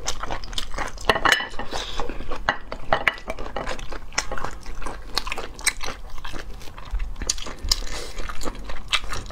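Thick sea snail (conch) meat is chewed and bitten up close in an eating session, with dense, continuous wet crunching and biting and occasional clinks of cutlery and dishes.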